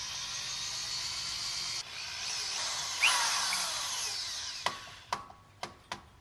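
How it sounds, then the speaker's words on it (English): A drill bores slowly and steadily into a brake rotor screw during a big brake kit install on a 2010 Honda Accord V6, a continuous whirring grind that shifts pitch midway, followed by a few sharp metallic clicks near the end. "just start drilling slowly"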